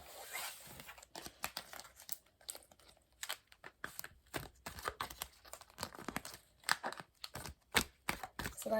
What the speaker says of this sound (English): let's just get to shuffling and see what comes out.